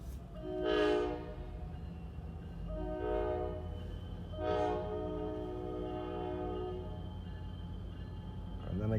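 A train rumbles past nearby, its horn sounding three times in long blasts over the steady low roar of the engine and cars.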